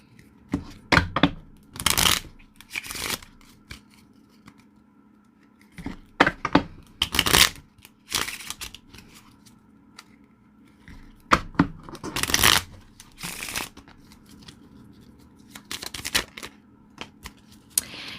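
Tarot clarifier cards shuffled and drawn by hand, heard as several bursts of crisp riffling and snapping slaps, near and fairly loud, separated by quieter pauses, with no talk.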